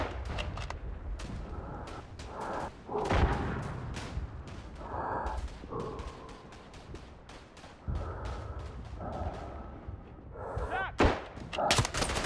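A grenade blast in the WWI shooter Verdun, set among repeated gunfire and rumbling battlefield explosions that run throughout, with several loud broadband bursts and a sharp crack near the end.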